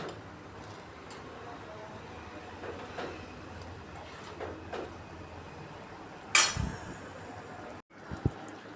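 A spoon stirs macaroni boiling in a pot on the stove, with a few soft scrapes and clinks against the metal over a steady low background hiss, and one sharper clatter near the end.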